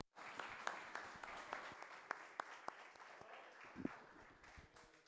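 A church congregation claps in praise during a Sunday family service, scattered sharp hand claps over a soft murmuring background, fairly faint and distant throughout.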